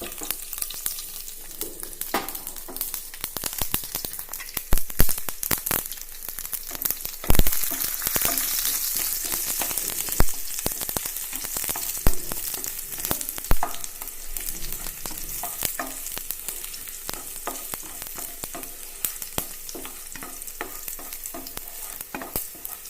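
Garlic fries in hot oil for Kerala-style plantain chips, a continuous crackling sizzle with sharp pops and spatters, close and fairly loud, with no voices over it.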